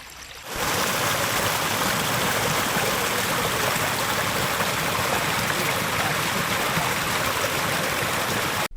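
Water rushing along a forest stream carrying heavy foam, a loud steady burbling flow that begins abruptly after a brief quiet moment and runs on unbroken.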